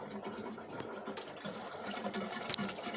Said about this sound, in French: Donc, on va ouvrir un tout petit peu le robinet.